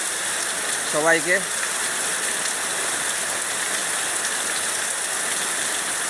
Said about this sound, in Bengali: আর আমাদের এলাকার বৃষ্টিটা আজকে দেখালাম আপনারা